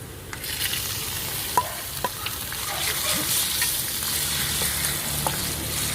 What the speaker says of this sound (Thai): ตอนนี้หอมแดงของเราก็หอมเหลืองดีแล้วนะคะ คลณลุงก็จะใส่เป็นหมูสามชั้นลงไปค่ะ